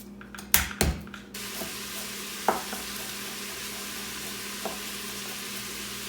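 Garlic sautés in a pot for chili, with a few clattering stirs and knocks at the start, then a quiet, steady sizzle with faint scrapes.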